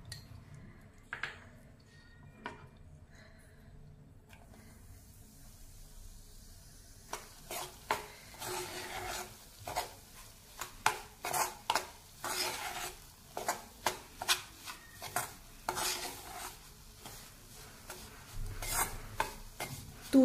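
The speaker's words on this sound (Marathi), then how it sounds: "आता आपण जो मुगाच्या डाळीचं रवा केलेला आहे तो आपल्याला भाजून घ्यायचा आहे" Ground moong dal roasts in ghee in a kadai, first a quiet soft sizzle, then a run of rhythmic spoon scrapes and knocks against the pan as it is stirred.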